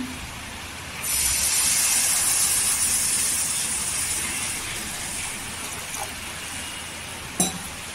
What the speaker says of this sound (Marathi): त्याच्यामध्ये कढईमध्ये ठेवलेले आहे, त्याच्यात पाणी टाकून घ्यायचं